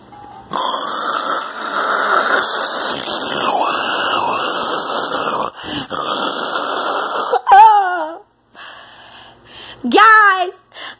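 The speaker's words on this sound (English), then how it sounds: "he's ruining my beautiful baby doll by snoring on it really loud" A man snores loudly and at length onto a toy baby doll, a long harsh rasping drone followed after a pause by two shorter squealing, snorting breaths, close and loud.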